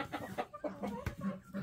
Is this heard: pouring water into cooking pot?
no